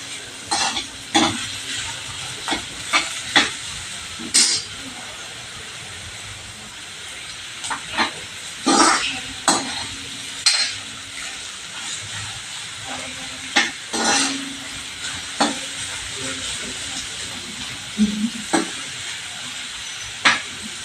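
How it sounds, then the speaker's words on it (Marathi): Finely chopped onion sautéing in a pan for a dhaba-style spinach and pea dish: a steady close sizzle broken by repeated sharp scraping clicks of stirring, with no talking. "कांदा चांगला आपण परतून घेऊया"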